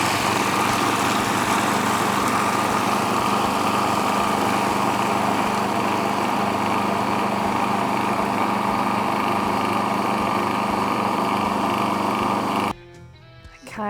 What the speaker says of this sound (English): we're going to start to blitz that up and pour oil in as it goes